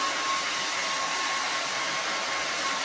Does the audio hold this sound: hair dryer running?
yes